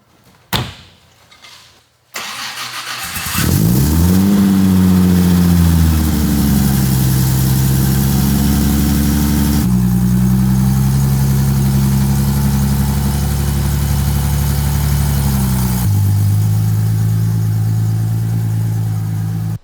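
A 1963 Jaguar E-Type's 3.8-liter inline six cranks briefly and catches, then settles into a loud, steady idle close by with a slight shift in tone partway through, after a couple of faint clunks at the start; no one speaks.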